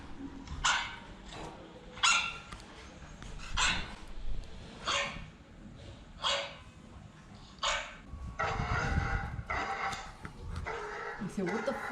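A dog barks in repeated short bursts at moderate distance, with voices talking over and between the barks.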